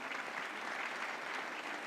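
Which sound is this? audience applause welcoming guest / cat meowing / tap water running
audience applause welcoming guest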